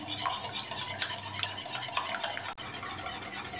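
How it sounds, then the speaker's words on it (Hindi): Eggs being whisked for chocolate cake batter, a rapid, steady scraping and clicking of a whisk against a bowl, close and continuous for a few seconds with no talking. "अंडों को अच्छी तरह फेंट लेंगे।"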